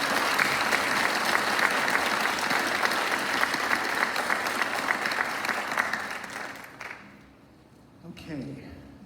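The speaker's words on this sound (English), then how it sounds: "one more enormous round of applause for our students and teachers" Enthusiastic audience applause at a school board meeting for students and teachers, full and sustained for about six seconds before dying away, with voices murmuring at the end.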